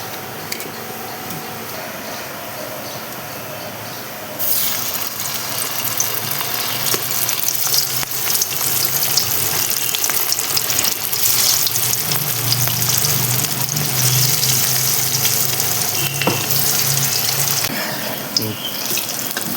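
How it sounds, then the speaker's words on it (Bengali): Sajne flower koftas frying in hot mustard oil in a kadai, a steady loud sizzle that swells after a few seconds and keeps crackling continuously, with no talking. "এখন আমি এটা কোপ্তাগুলি ভেজে নেব। তেলটা গরম হলেই কোপ্তাগুলি ভেজে নেব।"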